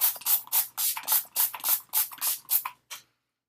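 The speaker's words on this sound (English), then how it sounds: "just give it a good spray." About ten quick hissing bursts of a makeup setting spray bottle, close and fairly soft, fired in a fast, even rhythm before stopping.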